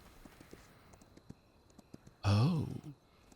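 A horse's hooves clip-clop at a steady walking pace in the Kingdom Two Crowns Norse Lands game, soft and regular, before a burst of louder sound near the end.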